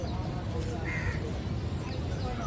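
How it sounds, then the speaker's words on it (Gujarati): Crows caw on Atal Bridge over the Sabarmati river in Ahmedabad, a single short harsh call standing out midway over steady outdoor ambience and wind. "કાગડા અમારું સ્વાગત કરે છે અત્યારે."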